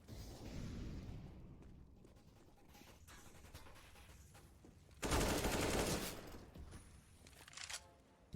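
Bursts of MP5 submachine gun fire in a Counter-Strike match on Overpass, with a loud, dense volley of shots around the middle standing out over quieter in-game ambience and scattered softer shots.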